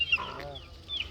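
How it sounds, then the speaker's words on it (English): A chicken on a spice farm in Zanzibar gives a short run of soft clucks, close by, with faint outdoor background noise. "Chicken."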